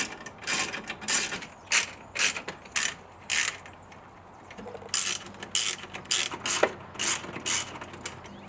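A ratchet tightens screws in a car engine bay with close, crisp clicking in repeated short bursts, pausing between runs, alone with no talk.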